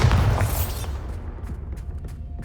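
A Bombarda spell blast in Hogwarts Legacy lands as one heavy, close boom with a rumbling low burst up front, then fades into a lingering tail with faint scattered crackles and debris.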